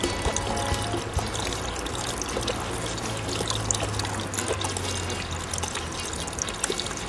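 Water draining from the purge of a Racor FG500 diesel fuel filter, a steady trickling pour that runs unbroken and close by with no talking.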